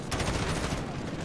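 Machine gun fire in a Call of Duty video game comes as a dense, continuous rattle of rapid shots, loud and close, filling a short burst with no pause.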